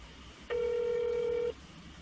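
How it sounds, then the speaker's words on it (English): A single telephone ring tone on a call left unanswered, one steady, clear beep of about a second set against quiet room hiss. "You'd think they'd want to answer the phone."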